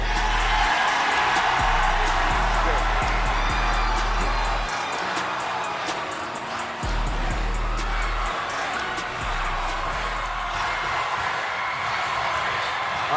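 A large crowd at a Norfolk State game-day broadcast cheers and whoops in a steady, loud roar that fills the whole stretch, with a low rumble underneath.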